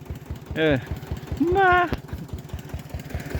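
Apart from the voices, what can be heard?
tractor engine running on a dirt road by a canal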